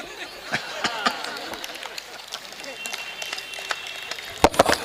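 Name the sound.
audience applause after a joke at a poetry show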